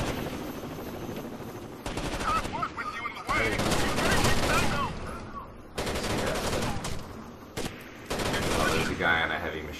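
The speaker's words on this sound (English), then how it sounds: "Guy on a heavy machine gun." Heavy machine gun fire in the video game Rainbow Six Vegas 2 comes in loud sustained bursts with short gaps between them, mixed with game effects and occasional player chatter.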